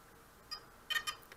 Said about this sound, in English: the quadcopter is beeping and the lights are flashing